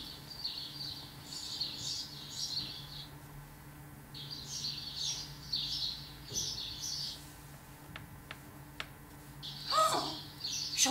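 Birdsong in short bursts of high, rapid chirping with brief pauses between phrases, fairly faint over a low hum, with a few clicks near the end, set in a children's theatre performance.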